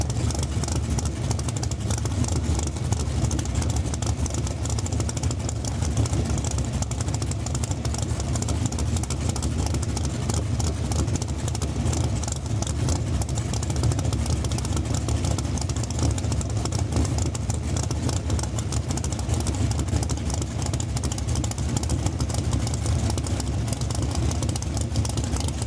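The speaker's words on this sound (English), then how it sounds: "some of the feature cars making some test passes here today" Drag race cars make test passes at Saskatchewan International Raceway in Saskatoon, a steady broadband engine roar held at moderate distance throughout with no clear breaks, and no talk over it.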